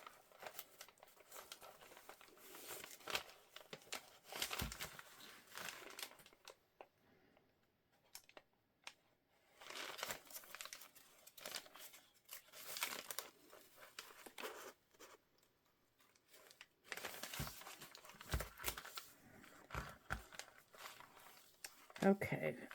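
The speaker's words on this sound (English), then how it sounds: "You can, you know, refold the paper." Paper is folded and crinkled at close range, soft rustling and crackling in irregular bursts with short quiet gaps, fairly faint overall.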